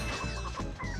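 Cartoonish chickens from the Ratchet & Clank video game cluck in a busy, continuous flurry of squawks over loud game sound, several birds overlapping throughout the short burst.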